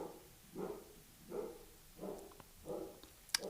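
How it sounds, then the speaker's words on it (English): A dog barks somewhere outside, probably at a cat, in four evenly spaced muffled woofs at a distance, with light background noise. "He's probably barking at a cat"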